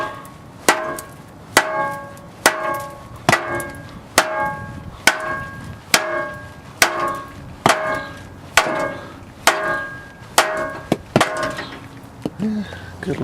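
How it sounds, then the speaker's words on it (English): A hammer strikes an exhaust muffler clamp about a dozen times in a steady, evenly spaced rhythm. Each blow is a sharp, loud, close metallic knock that rings briefly, and nobody speaks. "We'll smack it a few times with a hammer."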